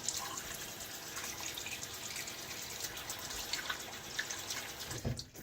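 Running tap water hisses steadily while a razor is rinsed under it during a wet shave, with faint splashes and drips and a brief louder clatter near the end.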